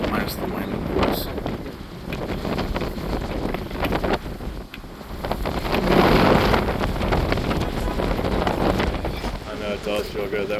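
Strong wind gusts across an outdoor battlefield, buffeting the microphone with a continuous rough roar that swells midway, while a person talks quietly beneath it.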